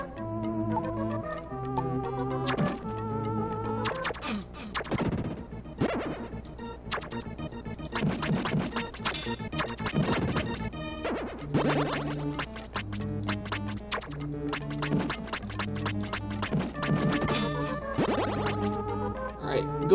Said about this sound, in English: It's that terrible Will blocking something with his flute sound.